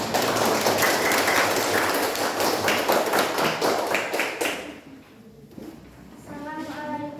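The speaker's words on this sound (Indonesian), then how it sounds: "Sebelumnya tepuk tangan dulu." Pupils in a classroom clap together in a dense, lively burst that stops abruptly after a few seconds. A voice follows in the quieter remainder.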